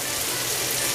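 Celery and other vegetables frying in oil for a vegetarian gumbo, a dense, steady close-up hiss of sizzling with no break.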